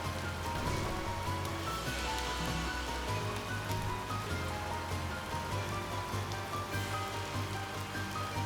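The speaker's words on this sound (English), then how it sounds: "It is raining" Rain falling in the game Horizon's Gate: a steady, dense hiss of rainfall that stays constant throughout, with a low droning hum underneath and no speech.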